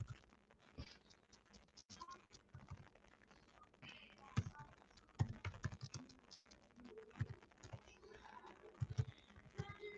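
Someone types a search on a computer keyboard, producing quiet, close, irregular bursts of key taps and clicks with short pauses between them.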